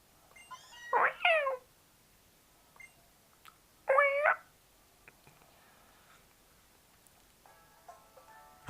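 Two loud synthesized Meowth meows from a Pokémon Moon game ring out a few seconds apart, with quiet electronic chimes and blips in between.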